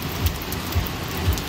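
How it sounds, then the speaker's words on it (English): Heavy rain falls at Playa Venao, Panama, making a dense, steady outdoor hiss with a few dull low thumps and no talking. "show how much it's raining"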